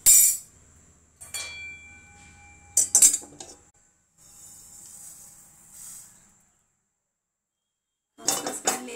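A metal spoon clinks and scrapes against a kadhai while roasted poppy seeds are scooped out, a few sharp bursts separated by quiet gaps and a soft hiss.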